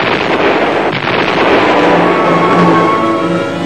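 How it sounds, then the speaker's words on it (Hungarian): A landmine detonates in a military engineering training setting, giving a loud, sustained roaring blast that fills the whole stretch with dense broadband rumble and no speech. "Ekkor robban az akna."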